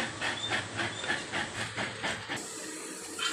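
A steady hiss of steam with bubbling water beneath, a continuous rushing boil in an idli steamer pot that eases slightly toward the end.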